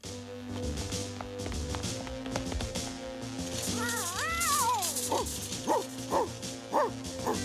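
Cartoon cat meows in a run of rising and falling wails, then several short yowls near the end, with a dog barking and yipping alongside and animated music and effects in the background.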